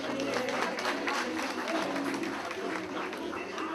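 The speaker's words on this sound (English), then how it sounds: "Nana Jemfi Kumani, let's welcome him with a special applause." Audience at an Asante Kotoko 2017 gathering applauding to welcome a dignitary, a steady wash of clapping and crowd murmur that holds at an even level throughout, with some voices mixed in.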